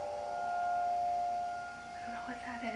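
A siren wails in the background as a sustained steady tone that fades, with a person talking over it toward the end.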